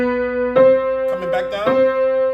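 Piano notes ring out close and clear, a sustained chord shifting to a new chord and back, with fairly even loudness across a couple of seconds.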